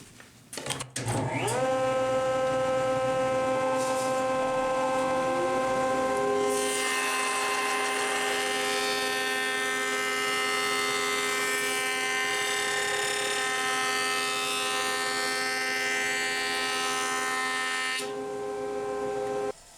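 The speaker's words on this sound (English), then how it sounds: "the jointer is the perfect tool to do it" A jointer in a woodshop spins up and runs steadily while smoothing the uneven edge of a glued-up wood panel, its whine holding strong with a brighter cutting roar through the middle of the pass; no talk.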